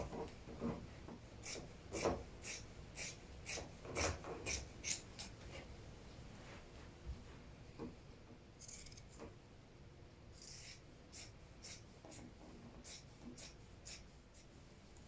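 Scissors cutting fabric around a hoodie pattern outline, with a run of crisp, evenly spaced snips at close range, a pause with faint rustling, then another steady series of snips.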